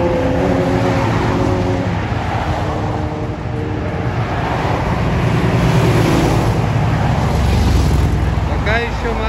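Old American cars cruise along Woodward Avenue in Detroit, engines rumbling past on the street amid wind noise and traffic, with someone speaking over the steady din.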